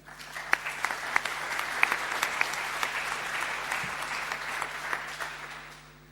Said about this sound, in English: Also a big applause for them.